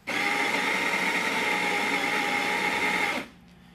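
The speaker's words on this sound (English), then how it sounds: "I'm going to grind about half of it and then pause it." A Baratza Sette 270 burr grinder grinds coffee beans close by, giving a loud, steady whirring buzz for about three seconds before it cuts off abruptly to near silence.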